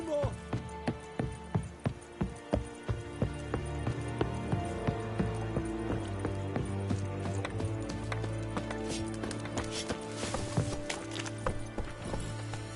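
Horse hooves gallop in The Witcher 3, a rhythmic run of loud, close hoof strikes at the start that settle into softer clip-clop under a layered game soundtrack and ambience.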